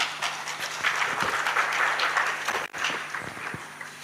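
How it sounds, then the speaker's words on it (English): Applause from a conference audience at the close of a session at a telecommunications expert meeting, a steady broadband patter of many hands filling the room for about four seconds, briefly dipping near the end. "Those are not enough round of applause."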